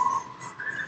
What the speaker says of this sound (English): once they're offside, it's an automatic whistle